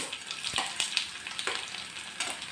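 Mustard seeds and garlic fry in two spoons of hot oil, a close sizzle broken by sharp irregular pops and crackles scattered across the short stretch, with no voices.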